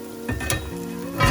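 Tomatoes hit hot oil with onions and sizzle loudly up close, with a sharp burst as they land and a steady fry after that, then a louder surge near the end.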